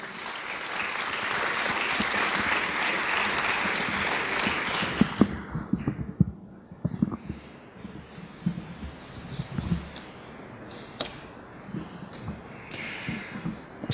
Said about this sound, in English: please help me welcome him with one more round of applause